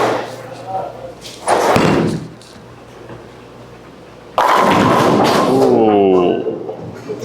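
A solid-coverstock Hammer Special Effect bowling ball rolls down a lane and crashes loudly into the pins. A heavy thud comes first, then a sustained clattering crash that rings on for a few seconds. People talk and react around it.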